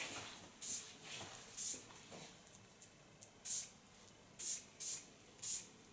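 Hairspray is sprayed onto hair in six short hissing bursts, the first two and last three spaced irregularly, quiet and close with no talking.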